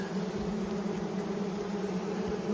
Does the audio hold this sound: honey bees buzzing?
yes